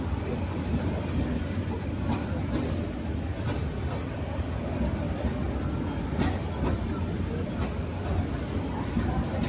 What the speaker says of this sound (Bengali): চট্টগ্রাম থেকে চাঁদপুরের বড় স্টেশনে চলে এলো সাগরিকা